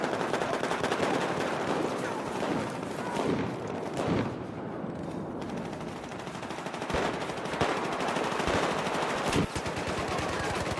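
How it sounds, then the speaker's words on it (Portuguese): Automatic gunfire and bursts of shots in Battlefield 4 Gun Master mode on Xbox One, loud and dense throughout with repeated sharp cracks over a constant battle din. "Quem que tá atirando em mim?"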